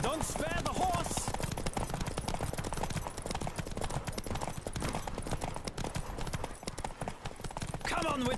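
Horse hooves clip-clop at a fast gallop in The Witcher 3, a steady rapid rhythm running close and loud throughout, with voices talking over it and a brief whinny near the start.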